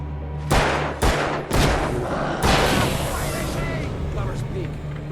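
Several sharp, loud gunshots ring out in quick bursts over a steady soundtrack in the video game Alan Wake, with voices talking underneath.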